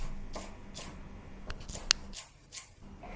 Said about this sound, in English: Rough chop 2 stalks of coriander.